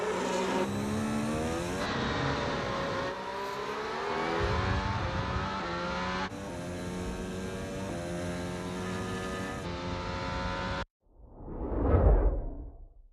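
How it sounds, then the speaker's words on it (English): A Formula One race car in film sound design, built up as a mix that swells with rising and falling engine tones before a sharp, loud whoosh as it rushes right past the camera, then cuts off. "that's kind of a sound designy element that we wanted to do to accentuate the car by coming right past camera."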